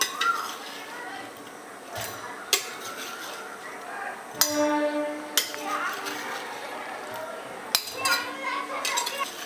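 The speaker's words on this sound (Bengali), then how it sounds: "এবার এই তরমুজের টুকরোগুলো আমি মিক্সির জারের মধ্যে নিয়ে নিচ্ছি" Watermelon pieces dropping into a mixer jar, a few sharp clinks and knocks against the jar spread over a quiet kitchen background, with someone talking throughout.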